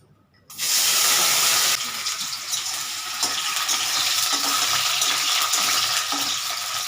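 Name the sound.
potatoes frying in hot oil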